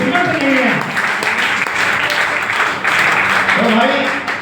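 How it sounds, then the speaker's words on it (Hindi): Seminar audience in Rishikesh bursts into sustained applause, a dense wash of many hands clapping that swells and continues for several seconds with a voice speaking over it. "उसको ताली बजाओ, उसके लिए बहुत बड़ा रोल है"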